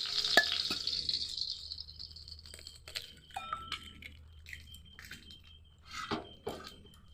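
Oil heating in a pan for a street-style egg roll, a faint sizzle fading early, then scattered clinks and scraping of utensils at low volume, no voices.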